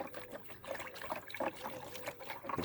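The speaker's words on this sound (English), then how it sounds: "whisk it up" Crumbled yeast is whisked into a bowl of tepid water with a balloon whisk, giving soft watery sloshing and trickling strokes in a steady rhythm, close by and fairly quiet, with no talking.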